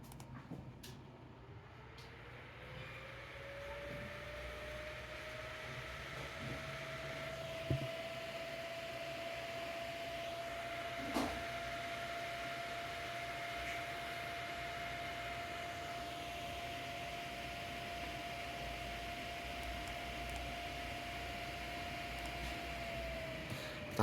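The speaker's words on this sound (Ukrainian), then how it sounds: "давайте тест вентиляторів." Cooling fans on a Gigabyte graphics card spin up during a fan test. A whirring hum rises in pitch and then holds a steady tone over a broad, even rush of air, with no talking.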